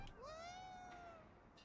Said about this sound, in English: it's a cat. What's the cat doing here?